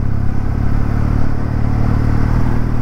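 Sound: Kawasaki W650 motorcycle riding on gravel

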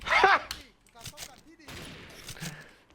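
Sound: gunfire in a video game

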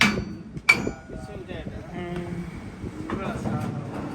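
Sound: hammering during combine cutter chain repair

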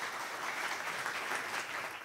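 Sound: audience applause welcoming President Emil Constantinescu

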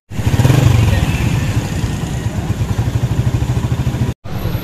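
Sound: Honda 125 motorcycle engine running

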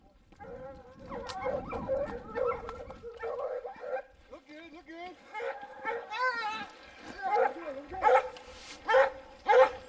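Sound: hunting dogs barking during a lion hunt

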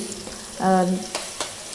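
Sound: garlic frying in hot oil in a pan

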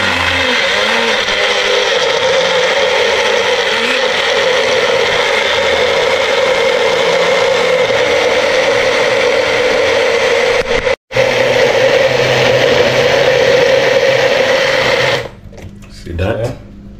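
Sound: mini blender blending food

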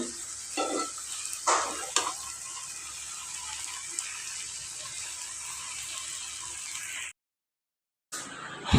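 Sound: noodles and vegetables being cooked in a pan

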